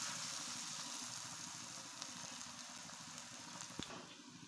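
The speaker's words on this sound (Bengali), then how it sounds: "আমি এবার এক এক করে পাকোড়াগুলো সব দিয়ে দিচ্ছি তেলের মধ্যে।" Pakoras of potato, drumstick leaves, rose petals, onion and garlic fry in hot oil, a faint, steady bubbling sizzle close by with a couple of light clicks.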